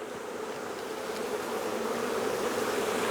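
A dense, continuous buzz of many honeybees fills the air, steady and close throughout.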